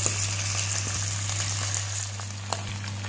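Fish pieces frying in mustard oil on a high flame produce a soft, steady sizzle over a constant low hum, with a couple of faint pops, close and unaccompanied by speech.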